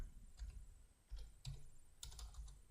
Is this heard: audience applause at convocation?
no